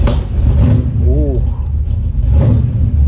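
A Chevrolet El Camino that has sat unused for about a week starts up and revs, a loud close engine with rising revs, and a person exclaims briefly over it.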